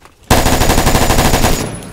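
A loud, close burst of automatic gunfire in Roblox Phantom Forces, erupting abruptly after a quiet moment and rattling rapidly for over a second before trailing off.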